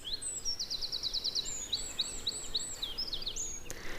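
Birds sing in quick, repeated high chirps and trills, several calls overlapping against a quiet, hushed background.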